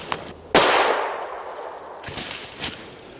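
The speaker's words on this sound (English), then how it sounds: "I shot from a little bit under 15 feet" A Winchester PDX1 12-gauge shotgun shell fired at cardboard from just under 15 feet gives one sharp, loud blast with a long ringing decay, then a second fainter burst that is likely an echo or mechanical noise.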